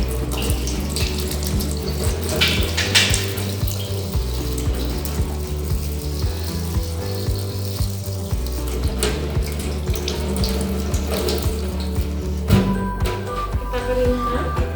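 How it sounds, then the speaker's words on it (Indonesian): Tap water runs steadily into a sink while hands are washed, a continuous close splashing stream lasting throughout, with a few small clicks and knocks and some quiet talk now and then. "Cuci tangan ya."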